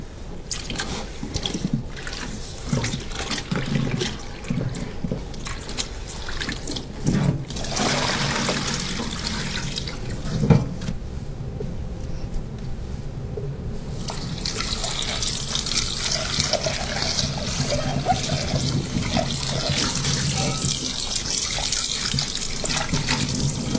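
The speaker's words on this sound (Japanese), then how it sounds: "そしてスポンジに中性洗剤をつけます。 そしてお湯のある中で洗浄します。" Enamel cast iron Le Creuset pot being scrubbed with a sponge in hot water in a sink, close splashing, sloshing and scrubbing sounds that swell and continue steadily, with a louder rush of water later.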